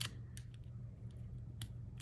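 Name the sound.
scissors cutting in scrapbooking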